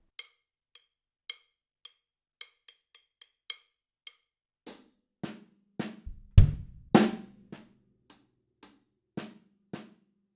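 Solo drum kit playing a linear groove built on a paradiddle-diddle: sparse, crisp high taps first, then bass drum and snare strokes join in an uneven rhythm of single hits, close and clear, with no talking.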